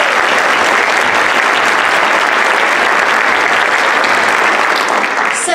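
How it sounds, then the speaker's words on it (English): Loud, sustained applause from a school audience at a junior high orientation and academic fair, a thick continuous clatter of many hands throughout. "Let's give a round of applause for our cheerleaders."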